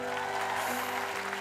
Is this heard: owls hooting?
no